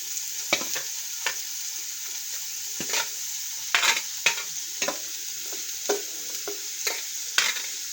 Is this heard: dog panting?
no